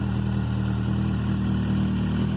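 Kawasaki Z750 motorcycle engine with a newly fitted sport exhaust, idling with a deep, steady, throaty rumble that holds loud and close throughout, with no talk over it.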